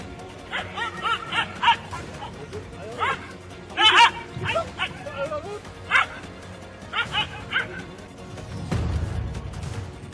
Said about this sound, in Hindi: कुत्ता थोड़ा आगे बढ़ता है, लेकिन वापस लौटकर फिर से शेर और शेरनी पर न सिर्फ भौंकने लगता है